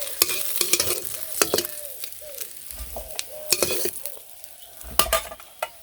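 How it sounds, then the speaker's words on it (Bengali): Fish sizzles steadily in a pan while a utensil scrapes and clinks against the metal, turning the pieces every few seconds. "উল্টে পাল্টে মাছগুলো ভেজে নিলাম"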